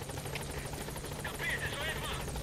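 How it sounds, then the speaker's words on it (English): In Metal Gear Solid V: The Phantom Pain, a support helicopter arrives at the landing zone with a constant, loud rotor thrum and whine, and a voice comes through over the steady engine noise. "Support helicopter has arrived."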